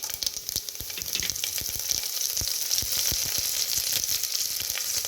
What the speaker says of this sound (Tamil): கருவேப்பிலை போடுறேன்,